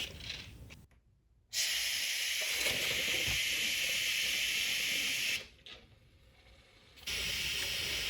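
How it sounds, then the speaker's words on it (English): Loud, steady hiss of steam rushing into the flask of a small Savery steam engine, broken by a brief drop partway through before the hissing surges back. "we inject steam into the steam flask"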